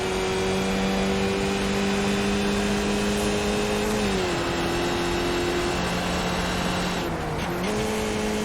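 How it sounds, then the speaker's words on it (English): Race car engine in the iRacing sim game, a loud sustained high-pitched drone that dips in pitch once midway and drops again near the end, with a brief tire squeal. "Don't hit the revs so hard. You'll kill the engine."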